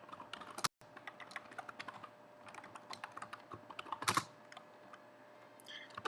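Typing on a computer keyboard, bursts of quick light key clicks with short pauses and a couple of louder clacks, close and fairly quiet against a faint background hum.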